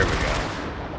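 Enemy gunfire in the mech combat game Brigador, a dense, continuous burst of loud shots filling the whole second with no pause.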